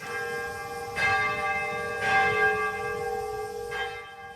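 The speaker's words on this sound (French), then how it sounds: "la cloche cathédrale Immaculée Conception, édifice qui est crasé par explosion atomique, il retentit pour première fois depuis 80 années" Restored bell of the Immaculate Conception Cathedral in Nagasaki, a building destroyed by the atomic bomb, rings out in three resonant, evenly spaced strikes with long ringing decay, heard alone.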